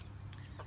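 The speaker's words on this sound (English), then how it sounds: "Sorry about my chickens, they're a little loud." Low, murmuring clucks from young racing chickens close by, a steady throaty chatter with a brief sharper note partway through.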